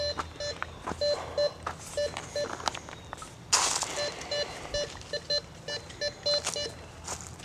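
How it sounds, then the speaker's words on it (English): Metal detector emitting repeated short electronic beeps in irregular bursts while metal detecting outdoors, fairly close, with a brief louder rustling noise midway. "Beep, beep, beep, beep, beep,"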